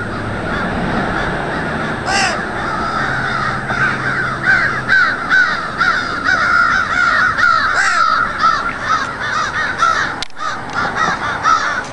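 A crow caws loudly and repeatedly at close range in a rapid, insistent series, with a brief harsh call standing out early on and no talk over it.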